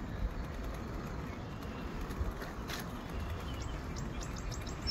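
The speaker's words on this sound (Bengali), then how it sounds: "পাখি ডাকছে," Birds call faintly near a forest beside a small highway on a cool Canadian summer morning, a few short chirps and tweets over a soft, steady background hum, with no talk.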